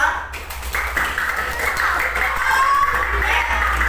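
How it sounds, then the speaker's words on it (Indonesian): A class of students in a classroom claps for two groups. The applause is steady, scattered and moderately loud, and a voice speaks over it near the start. "Tepuk tangan untuk kelompok 1 dan 2."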